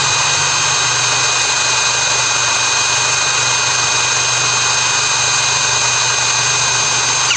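A DRIVAK EW002 cordless impact wrench rated at 600 Nm runs continuously at full speed, a loud, steady high-pitched motor whine that holds without a break throughout.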